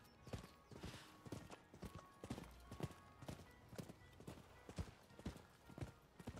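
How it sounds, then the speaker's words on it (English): Horse galloping in the video game Rise of the Ronin, a quick steady clip-clop of hooves pounding along at close range, loud and rhythmic with no talk over it. "you can gallop your horse too and go even faster."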